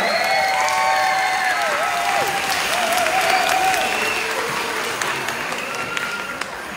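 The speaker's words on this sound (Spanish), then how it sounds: "¿Qué tal el aplauso para los padres?" Loud crowd applause for a group of parents at a migrant winter festival, sustained and dense, with faint cheers and a whistle-like tone drifting over the clapping.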